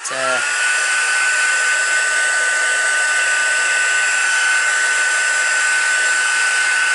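A heat tool used for heat embossing runs close and loud, a steady whining blower hum with a high tonal whistle that starts abruptly and holds unbroken to the end.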